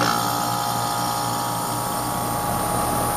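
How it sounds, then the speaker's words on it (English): An HVAC condenser fan and compressor run together after a new part is installed, producing a constant, loud mechanical hum and whir that stays even throughout. "And we have fan and compressor."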